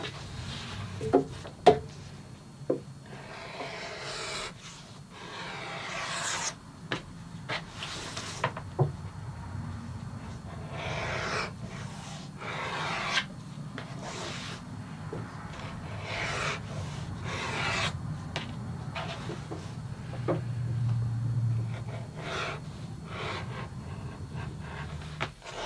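Leather belt edges are beveled by hand, giving quiet scraping strokes in an irregular rhythm with a few sharper clicks, close and faint, with no talking.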